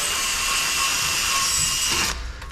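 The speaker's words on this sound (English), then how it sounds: "we're going to get a little deburr tool like this. Just going to run it in" A small hand deburring tool scrapes rust and surface lumps from the hub face of a Volvo XC90 during a brake disc change: a steady, close, continuous rasping scrape that stops abruptly near the end, with no talk over it.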